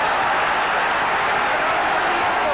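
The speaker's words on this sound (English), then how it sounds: "Listen to this crowd." Crowd at the Sugar Ray Leonard vs Roberto Duran boxing fight, a dense, loud roar of cheering that holds steady with no breaks, like a packed arena.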